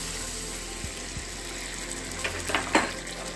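Fresh cottage cheese whey hits an egg curry in a hot pan, giving a steady low sizzle with a few faint knocks and a short run of bubbling spatters toward the end, no voices.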